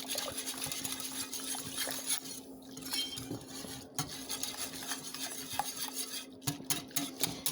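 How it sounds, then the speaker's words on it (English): Vegan pancake batter with bananas and applesauce being mixed in a bowl, steady scraping and stirring with clinks of utensil against the bowl, close up and continuous without talk. "And then you just mix it all up."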